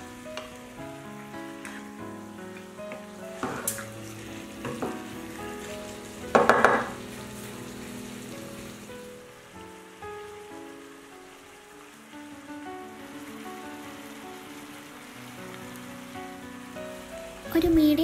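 Spinach chicken sizzles steadily in a pan over about eighteen seconds while it is stirred and mixed, with occasional sharp utensil knocks against the pan rising above the soft, close frying hiss.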